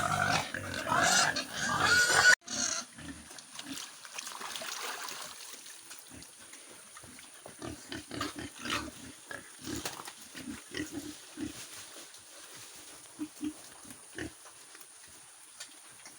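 Pet pigs grunt and snuffle while eating feed, with wet chewing and shuffling sounds close by after a brief burst of louder noise at the start.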